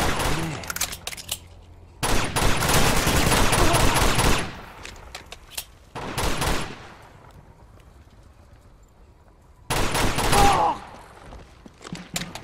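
Rapid automatic gunfire in Uncharted 2: Among Thieves comes in loud, dense bursts separated by quieter gaps, with a few voices heard between them.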